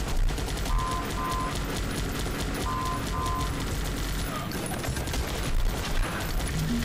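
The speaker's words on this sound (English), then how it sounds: "So everybody's kind of shooting at each other" Gunfire in a Guns Up multiplayer battle, a dense continuous barrage of distant shots and automatic fire rattling without pause, with scattered game sound effects layered through it.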